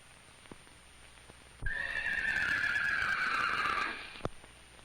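A horse on a 1950s goat dairy farm gives a loud, clear neigh of about two seconds that slides down in pitch and trails off, followed by a single knock, over a faint steady film-soundtrack hiss.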